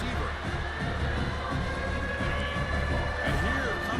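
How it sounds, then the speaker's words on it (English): Stadium crowd noise from a College Football 26 video game, a steady roar of many voices swelling slightly near the end as fans cheer on a red zone defensive stand. "This crowd is trying to inspire this defense to make a big red zone stop."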